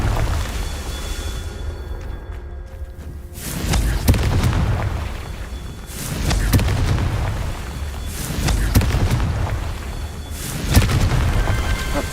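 Fiery blast spells in a Harry Potter video game set off a series of deep booming explosions, several heavy bursts rolling one after another over about twelve seconds, loud and close with rumbling tails.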